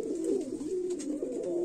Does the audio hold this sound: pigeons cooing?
yes